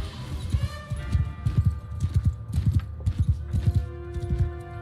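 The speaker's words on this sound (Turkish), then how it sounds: "Bak boş atlar var oğlum burada." In a war video game, horses' hooves clip-clop steadily in quick, overlapping beats at moderate volume, with a steady tonal hum running beneath them.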